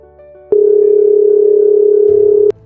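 A telephone tone sounds while a call is placed: after a click, a single steady electronic tone holds for about two seconds, then cuts off with another click.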